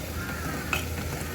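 A flour dough mixture fries in a pan of hot oil with a brief, steady sizzle and faint stirring clinks, heard up close.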